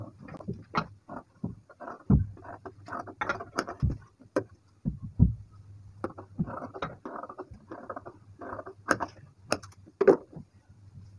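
Scissors cut blouse fabric to match a buckram piece, with a string of crisp close snips, clicks and light rustles over a faint low hum.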